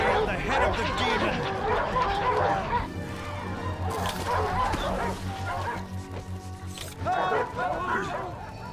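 Dogs bark repeatedly in rapid volleys with yips and whimpers, loud and close, while people talk and shout amid the commotion.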